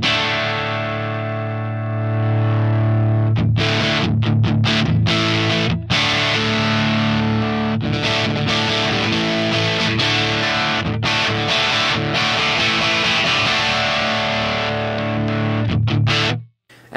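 Heavily overdriven electric guitar chords through an Axe Fx III amp model with input drive maxed ring out, thick and saturated, with sustained distorted tones, several quick stops and restarts, then an abrupt cutoff.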